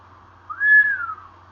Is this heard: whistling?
yes